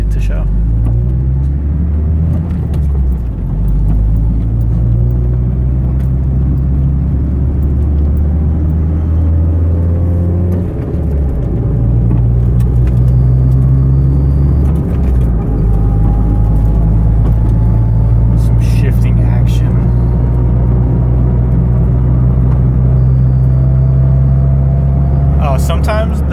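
Lowered Honda Accord CB7 driving along a road, with a steady, loud low engine drone and road rumble inside the cabin whose pitch shifts as the car changes speed.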